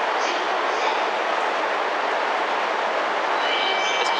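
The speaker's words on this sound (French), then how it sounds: "Alors là, il y a un série E5 qui arrive." A Shinkansen E5 series train pulls into a platform at Tokyo station, a steady broadband rumble and rush of wheels and air that stays loud and even throughout, with faint high squeals near the end.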